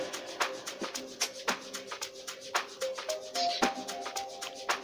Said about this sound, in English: So my next instrument guys, when making this beat, is the aqua lid, and it sounds like this.